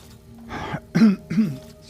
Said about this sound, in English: Sorry, let me clear my throat.